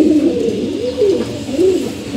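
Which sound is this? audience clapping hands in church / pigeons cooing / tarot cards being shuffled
pigeons cooing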